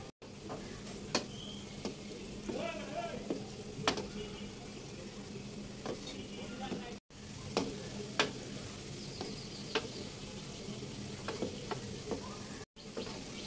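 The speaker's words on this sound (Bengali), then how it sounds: "মিষ্টিগুলো কিন্তু এখন ভাজা একদম প্রায় শেষ পর্যায়ে" Kalojam sweets fry gently in oil over a low flame with a soft, continuous sizzle. Occasional light clicks and scrapes of stirring sound against the pan, all quiet and close.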